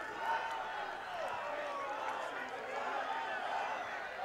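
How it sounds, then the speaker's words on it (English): Malvern Prep's boys lacrosse bench cheering and yelling, hyped up during the Inter Ac League championship against Haverford School, a steady sustained roar of voices picked up close on field microphones. "that noise you hear coming from the microphones, not necessarily the crowd, it's actually the bench, too, of Malvern Prep"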